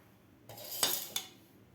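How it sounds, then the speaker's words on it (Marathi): A metal fork pricks small baby potatoes, giving two or three quick, bright clinks against the quiet of a kitchen. "आता याला आपल्याला एका काट्या चमच्यानं थोडेसे छिद्र पाडून घ्यायचे आहेत"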